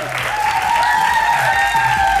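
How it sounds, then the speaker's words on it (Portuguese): Steady, dense applause from a crowd, loud and continuous throughout with no clear breaks. "Uma grande salva de palmas para o maestro António Gavinhos de Almeida."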